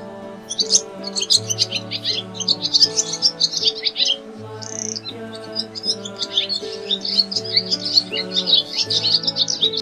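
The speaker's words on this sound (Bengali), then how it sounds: "ঘুঘু পাখি ডাকছে গাছে।" A dove calls from a tree in quick chirping, twittering bursts over steady, looping instrumental music with sustained low notes.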